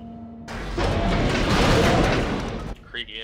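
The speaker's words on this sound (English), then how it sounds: "Creaky ass elevator." A creaky elevator in Dead Space 3 starts with a low hum, then a loud broad grinding rumble builds and holds before cutting off, with brief voice-like sounds at the end.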